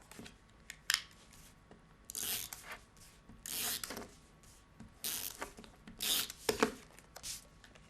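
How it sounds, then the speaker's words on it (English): Paper stems being taped onto a cut piece of brown cardstock: a series of rasping, tearing tape pulls and rubbing presses, several short bursts spaced irregularly, close and moderately loud with no talking. "I'm going to tape those onto my cut brown piece of cardstock."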